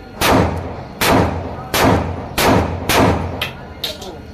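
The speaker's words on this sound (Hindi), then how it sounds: "अब इस पर आप फायर करेंगे, ठीक है?" A Zigna 30 bore pistol fires single shots: about five sharp, loud reports spaced roughly a second apart, each with a short ringing tail, the last one lighter.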